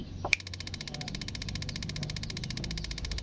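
A gas stove igniter, just fitted with a new base, gives one sharp click and then settles into a fast, steady ticking buzz that runs on without a break at close range.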